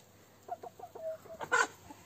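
Bought chicks on a Siberian village farm cluck softly in a short run of quick notes, ending in a louder squawk, fairly quiet and without talk.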